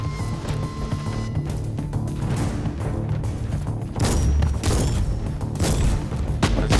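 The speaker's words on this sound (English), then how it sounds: "See just how effective this shotgun is here." A shotgun firing in the video game Inquisitor Martyr, heavy booming blasts and crashing impacts, loudest in a burst partway through, over a low background of game sound.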